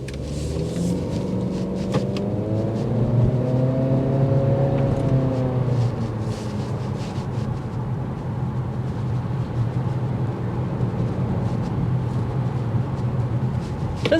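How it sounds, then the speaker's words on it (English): A 2024 Acura Integra A-Spec with its inline turbo engine accelerates on a twisty road, heard from inside as a rising engine drone that climbs in pitch through the gears, then settles into a steady loud rumble with road noise. "we need to see this inline turbo go"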